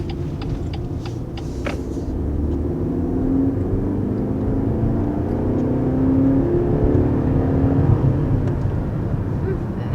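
A BMW X1 with a 2-liter turbocharged 4-cylinder engine accelerates under a steady, rising cabin hum and rumble, while people talk quietly over it.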